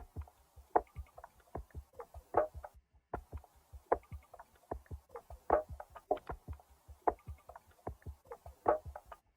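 Two layered percussion loops from a sample kit play a steady repeating groove of soft, muffled hand-drum style hits with sharper accented strikes, clear and rhythmic with no voices, moderately quiet throughout.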